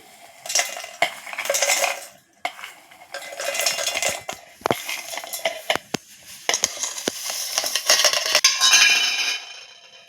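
Hard pieces of coconut, sesame seeds and peanuts drop and clatter into a steel mixer jar in a kitchen, giving a run of sharp clinks and rattles and a scraping spoon for about ten seconds, with no talking.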